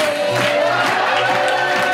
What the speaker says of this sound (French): Vous pouvez applaudir Samy et Big Momo.